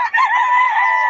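Young gamecocks (stags) crow and cluck close by, one loud, sustained call with a wavering pitch that fills the short moment with no talking.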